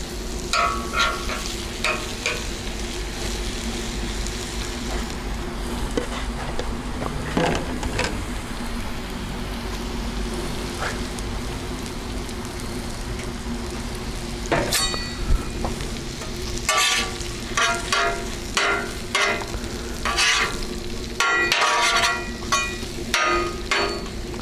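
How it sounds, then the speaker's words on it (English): Onions frying in butter on a flat grill, a continuous sizzle with repeated sharp metallic scrapes and taps of a spatula, growing busier toward the end. "Let's get these onions frying up."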